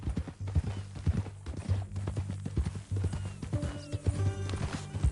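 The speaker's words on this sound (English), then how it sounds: "That new horse?" Hooves clip-clop steadily on hard ground as a horse walks in Red Dead Redemption 2, close and rhythmic, with a short neigh near the end.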